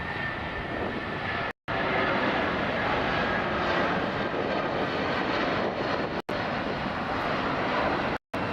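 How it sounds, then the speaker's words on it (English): Steady, loud roar of a Boeing 757 jet airliner at LAX airport, filling the whole stretch with broadband engine noise, broken only by a few brief gaps. "We got another 757, this one heading to Newark"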